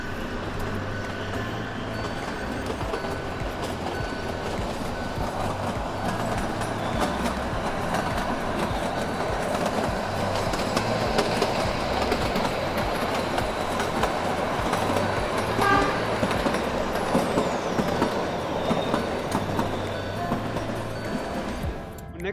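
Shivalik Deluxe toy train running on the narrow-gauge Kalka Shimla Railway near the Kanoh bridge, a steady rumble of wheels and carriages with rhythmic clickety-clack continuing throughout at moderate distance.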